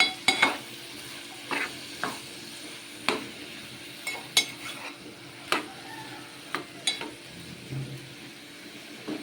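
Onions fry in a pan while a spoon stirs them up from the bottom, producing a soft ongoing sizzle with sharp scrapes and clinks of utensil against metal at irregular intervals, no voices.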